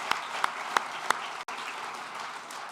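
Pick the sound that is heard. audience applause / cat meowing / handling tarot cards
audience applause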